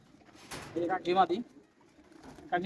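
Pigeons coo softly nearby, a few low throaty calls in short bursts with quiet gaps between.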